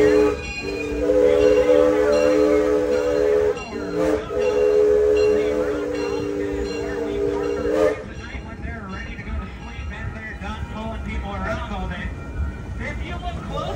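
A train at the Six Flags Over Texas amusement park blasts a long horn at close range, then rumbles and clatters along the rails, with a voice talking over it.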